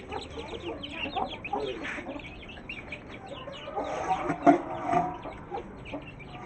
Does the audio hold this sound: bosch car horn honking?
no